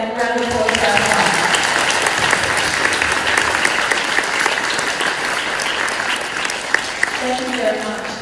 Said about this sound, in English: So a really loud welcome and round of applause for our time.